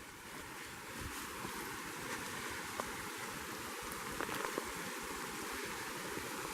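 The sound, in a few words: small waterfall over a rock slide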